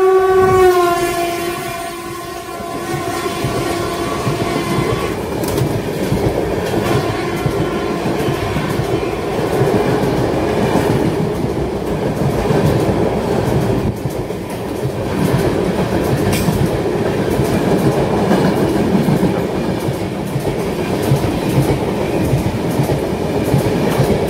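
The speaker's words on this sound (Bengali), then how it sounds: "আমাদের ট্রেন বর্ধমান জংশন ছাড়িয়ে এগোচ্ছে বোলপুর শান্তিনিকেতনের উদ্দেশ্যে।" Inside the Kanchan Kanya Express after leaving Barddhaman Junction, a steady loud rumble of the running train carries on throughout, with a horn tone sounding over it in the first few seconds and rhythmic wheel clatter underneath.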